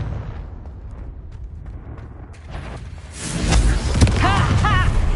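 Confringo fire spell in Hogwarts Legacy, a fiery whoosh that builds into a loud, rumbling explosion with crackling debris and ringing tones trailing after it.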